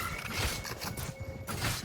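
A weapon reload in the video game Valorant comes through as a short mechanical creak and click sequence, close and moderately loud, with faint tonal game sounds behind it and no speech.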